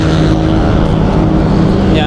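Himo C26 electric bike running at full throttle, a loud steady whine and rush of motor and wind noise with tyre rumble, close and continuous, with a voice faintly mixed in.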